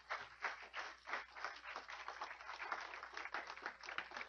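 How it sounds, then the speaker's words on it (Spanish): A church congregation breaks into rhythmic applause, a steady run of claps at moderate distance that carries on throughout. "De un aplauso al Señor Jesucristo."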